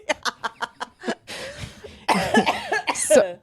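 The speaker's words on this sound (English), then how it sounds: "it makes me cough" A series of sharp coughs in quick succession, then a longer stretch of hoarse, throaty coughing and spluttering, close and fairly loud.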